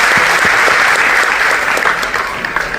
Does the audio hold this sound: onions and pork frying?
no